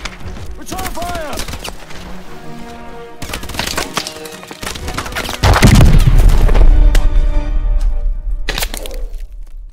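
Loud gunfire and explosions from a battle in the game Call of Duty: Advanced Warfare: dense cracking shots and booms, with a heavy low blast midway that rumbles on under continued firing and voices.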